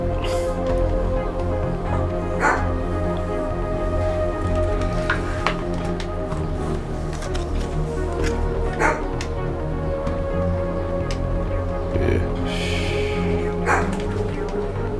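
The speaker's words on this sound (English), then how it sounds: "Good dog." A dog barks and yips in short, repeated bursts at moderate distance over a steady background hum, with a few whimpering sounds in between.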